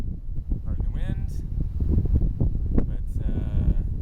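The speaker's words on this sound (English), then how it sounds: "pardon the wind" Outdoor wind buffets the microphone with a loud, constant low rumble that sits under a person speaking throughout.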